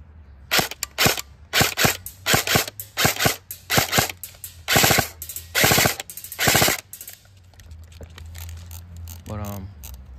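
A gun fires with its stock high-capacity 300-round magazine, letting off about a dozen sharp, rapid bursts of mechanical shots close by, separated by short pauses, before a quieter stretch near the end.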